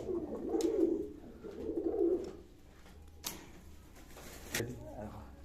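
Pigeons in a loft coo in two soft, throaty rolling bursts close by, followed by a few sharp clicks and someone talking quietly.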